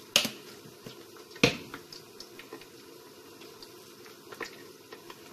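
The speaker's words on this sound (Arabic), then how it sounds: "سمحوا لي على هاد الصداع، عندي البطاطا كتقلى" Potatoes frying in oil: a low bubbling sizzle broken by sharp, scattered pops and crackles, two of them notably loud, heard alone and at moderate distance.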